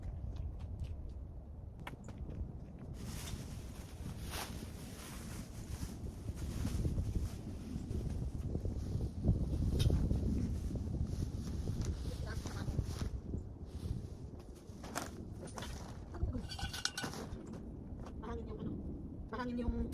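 Strong wind buffets the microphone in loud, continuous rumbling gusts, with scattered knocks and a voice speaking faintly underneath.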